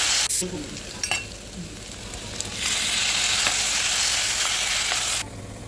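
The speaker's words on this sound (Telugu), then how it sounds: "ఇప్పుడు కొంచెం నూనె వేసుకొని నల్లేరు వేయించుకోవాలి" Nalleru (adamant creeper) fries in oil in a pan with a few clanks at the start, then a loud, steady close sizzle swells and holds before cutting off, with no voices.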